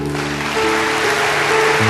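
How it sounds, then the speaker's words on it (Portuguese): A church congregation applauds in a continuous dense clatter of many hands, steady and loud, over sustained keyboard tones. "Vamos aplaudir, igreja."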